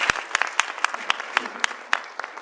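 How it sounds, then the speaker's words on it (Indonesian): Applause at a product presentation for Elken in Singapore, scattered sharp claps rising over a steady wash of clapping, fairly close and moderately loud. "beri tepukan"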